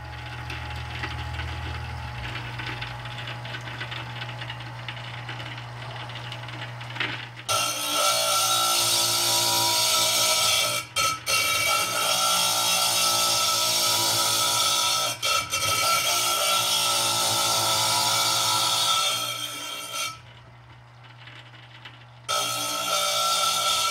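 Power grinder running on a vase being repaired in a studio, a loud sustained broadband whine that starts after a quiet stretch, briefly dips several times and cuts out near the end before resuming.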